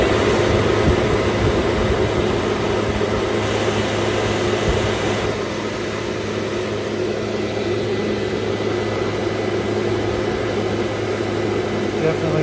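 A modified FF 15 industrial fan runs close by with a loud, steady whirring drone and a constant low hum, its tone shifting slightly partway through.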